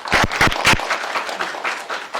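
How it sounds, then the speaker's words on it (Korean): An audience at an academic labor-law conference gives a short burst of applause, a few quick loud claps up front that thin out over about two seconds. "박수 받습니다"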